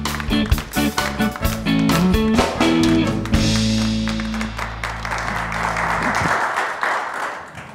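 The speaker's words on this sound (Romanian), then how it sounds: "Să o aplaudăm cu aplauze pe Iulia Laz." A television show audience applauds, scattered claps building into steady clapping while music plays underneath, then settling into a softer wash of applause.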